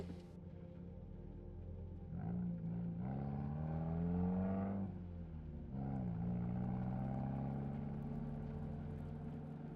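A car driving on a gravel road, its engine humming at moderate volume and rising in pitch in two separate pushes of acceleration, with no talk.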